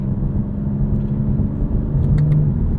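A BMW M4 Competition xDrive accelerates hard from inside the cabin, its engine giving a deep, loud rumble that swells toward the end, with a faint whine on top.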